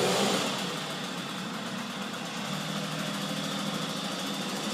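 A Puch moped engine running steadily close by just after a kick start, a loud buzzing two-stroke drone that is briefly louder at the start and then settles to an even idle.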